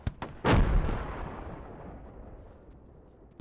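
A single heavy mortar blast in the game Project Reality booms out after a couple of faint distant thumps, then rolls away in a long fading rumble.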